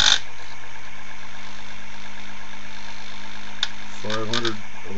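An experimental three-phase motor chassis on a Bedini monopole circuit runs at roughly 500 RPM with a steady, faint hum, and a voice speaks briefly near the end.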